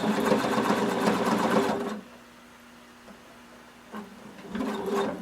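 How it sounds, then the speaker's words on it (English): Sewing machine running a very narrow zigzag stitch over elastic near the fabric edge on swimwear: a steady whirring, rattling drive that stops for about two seconds, then starts again at the end. "we're going to sew close to the edge. You're going to be using a very narrow zigzag stitch"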